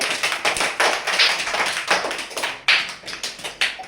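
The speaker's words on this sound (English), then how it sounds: "clap your hands all of you" Children clap their hands together in a lively burst of repeated, uneven claps, fairly close and loud, sustained without talking.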